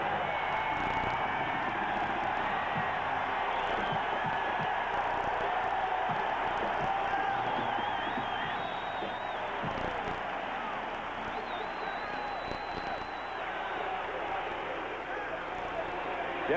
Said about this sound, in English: the crowd is turned on to the St. Louis Cardinals defensive effort